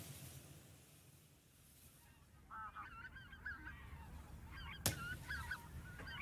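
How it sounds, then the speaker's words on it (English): A flock of white-fronted geese calling, faint and distant, with overlapping honks and yelps rising after a quiet opening over a soft background hiss, and one sharp click near the end. "That's the white-fronted geese there."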